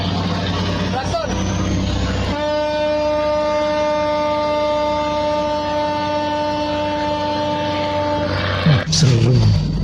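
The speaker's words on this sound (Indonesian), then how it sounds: "Klakson." An Indonesian Navy patrol boat blasts its horn in one long, loud, steady tone lasting about six seconds while chasing a Malaysian-flagged fishing boat at sea, with engine rumble and voices around it.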